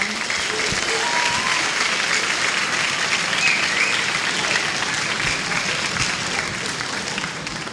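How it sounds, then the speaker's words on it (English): Audience applause at a school band concert: a dense, steady wash of clapping from a large crowd filling the hall, holding loud and even before easing slightly at the end. "please give them a warm round of applause and a warm welcome"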